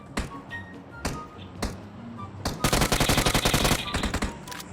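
Video game gunfire: a few scattered single shots, then a rapid automatic burst of closely spaced cracks that fades out, with sparse quiet gaps between.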